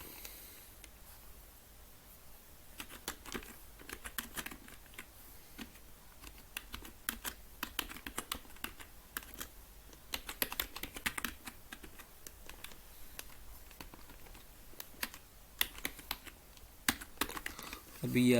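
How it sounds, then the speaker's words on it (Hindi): Fingers type steadily on a computer keyboard while working in Adobe Illustrator, producing dense, close, irregular clicks and key taps that run through the whole stretch with quiet background hiss. "क्लिक करने के बाद मैंने यहाँ पर टाइप किया"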